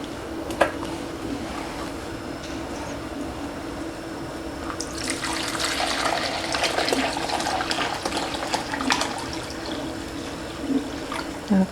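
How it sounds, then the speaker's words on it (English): Vinegar pours steadily into a container while bread and butter pickles are canned, a continuous watery splash that grows brighter and fuller midway, with a few small knocks. "we're going to pour in 6 cups of vinegar"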